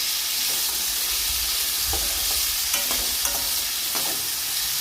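Potato fry being stirred in a pan: continuous loud sizzling and hissing of frying, with scattered scraping and clinking of the spoon as the pieces are mixed, no talk.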